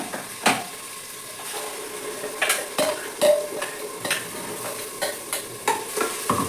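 Ground mint paste for pudina pulao fries in a pan with a soft, steady sizzle, broken by sharp scrapes and clacks as a utensil stirs it against the metal at an irregular pace.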